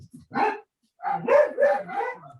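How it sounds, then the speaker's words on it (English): A pet dog barking in short bursts, one bark followed after a pause by a run of several quick, moderately close barks and yips. "Those are my dogs."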